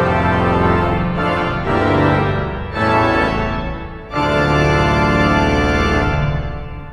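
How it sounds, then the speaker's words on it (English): Loud, full chords from an Austin pipe organ with all normal and reed stops of one manual combined, bright and brassy, held in long phrases broken by short gaps. "Combined with all the interesting reed stops, it sounds like this."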